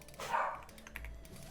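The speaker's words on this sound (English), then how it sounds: "I apologize if you guys hear my dog barking." A pet dog barks once nearby, a single short bark over quiet keyboard clicking and faint game sounds.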